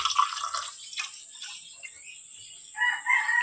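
Chickens and a rooster make noise in the morning, with a rooster crowing near the start and more crowing and clucking near the end, fairly faint with a steady high background hiss.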